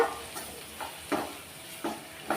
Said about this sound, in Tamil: இப்போ இது எல்லாத்தையுமே வந்து நல்லா எண்ணெயிலே கலந்து விடுங்க